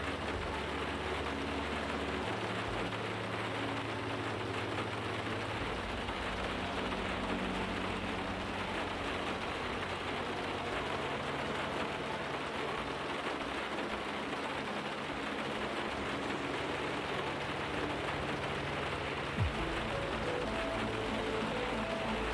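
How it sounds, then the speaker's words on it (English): Steady rain falls during a race in the Project Cars 2 PC VR racing game, a continuous broadband hiss with a low engine drone beneath and no voices. "Oh shit, it's raining."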